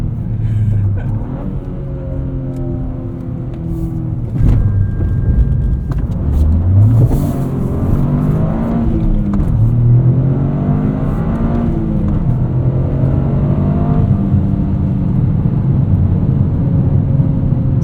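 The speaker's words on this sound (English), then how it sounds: "you can pull the handbrake and stay into the power and it'll just disconnect that rear axle" A 2023 Toyota GR Corolla's engine revs and accelerates with the handbrake pulled, rising and falling in pitch through several pulls, loud and close from inside the car.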